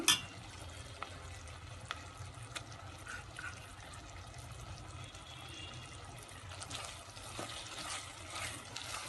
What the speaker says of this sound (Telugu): ఈ అల్లం వెల్లుల్లితోటి బాగా వేగనివ్వాలి